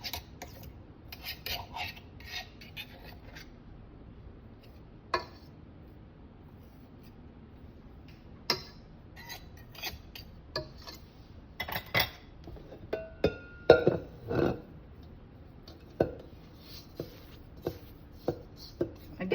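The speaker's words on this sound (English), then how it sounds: "Again, scrape the bowl." A spatula scrapes around a KitchenAid mixing bowl holding cookie dough, giving faint, close rubbing strokes with scattered light clinks and taps against the bowl.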